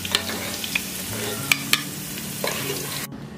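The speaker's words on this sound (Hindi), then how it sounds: "तो चलो हमारे आलू अच्छे से फ्राई हो गए हैं," Potatoes frying in hot oil in a pan for vegetable pulao make a steady, close sizzle, punctuated by a few sharp clacks from stirring, then the sound cuts off abruptly near the end.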